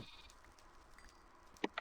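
A sheep in a Minecraft-style Sky Block video game gives two short, quick bleats near the end, against a faint, low background of game ambience.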